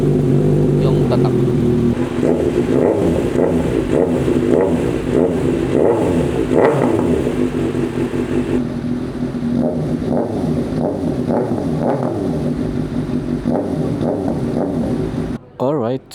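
A Kawasaki ZX-6R motorcycle engine idles while warming up with a steady low rumble, occasionally rising in pitch, while someone talks over it.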